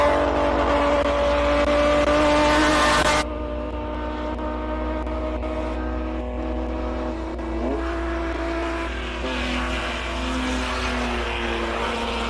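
A classic race car accelerates hard up the Simola Hillclimb, its loud close engine howl climbing through gears, then cutting to a steadier, more distant engine note that rises and fades.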